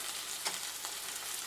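Cheeseburger patties fry in a cast iron pan with a soft, steady sizzle. A brief scrape or stir sounds near the middle of the crackling.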